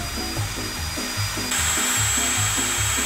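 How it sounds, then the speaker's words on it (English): Electric drill spinning an apple against a handheld peeler, a close steady motor whir with a repeating rhythmic scraping pulse, growing slightly louder halfway through, no speech. "all you got to do is put it on a drill, get your peeler"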